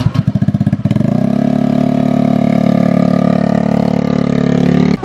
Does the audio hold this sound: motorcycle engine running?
yes